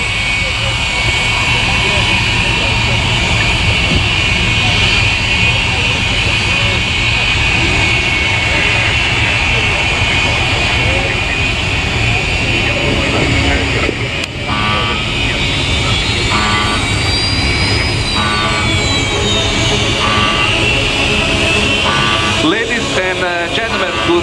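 An Italian Air Force military jet taxis along the runway at the RIAT 2025 air show, a loud steady engine roar and whine that lasts throughout while a commentator talks over a public address system.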